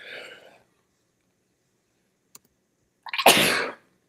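A single sharp sneeze, loud and close, after a brief stretch of quiet and a faint click.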